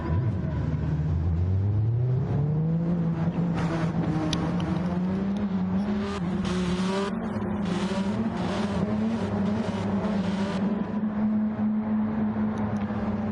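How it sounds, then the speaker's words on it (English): Race cars sit at the start line revving hard, engines rising and holding in steady droning pitch with bursts of throttle and faint tire noise, loud and continuous throughout. "Listen to people sitting at the line revving the tits off the car."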